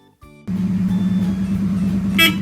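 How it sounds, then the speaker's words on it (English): Car driving on the road with a steady loud engine drone, then a short bright horn honk near the end. "A car goes on the road and passengers can ride in the car too."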